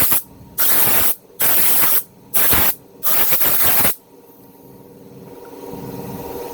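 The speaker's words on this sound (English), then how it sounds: "That's the sound of the air going across these blades." Four loud blasts of compressed air hiss in quick succession across a Toyota Prius hybrid battery cooling fan, then fade into a soft, rising whir of spinning blades.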